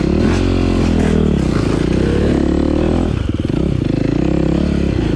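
Motorcycle on a ride, a loud, close, continuous engine drone with a throttle change partway through and wind and road rumble underneath, no voices.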